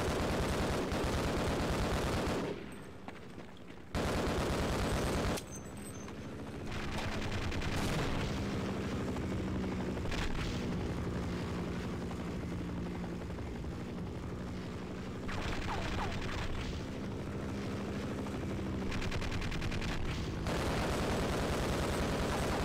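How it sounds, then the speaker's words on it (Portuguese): Dense bursts of gunfire and blasts in the video game Half-Life, loud and sustained, drop out briefly twice before resuming, with a rotor-like drone beneath. "Você dá tiro num lugar, ele explode?"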